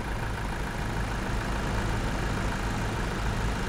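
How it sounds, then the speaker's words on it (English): A Ford tractor engine drones steadily in a farming survival video game, a continuous low rumble that holds at an even, fairly loud level without clear rise or fall. "There is something coming down the track. What is that? It's my Ford tractor."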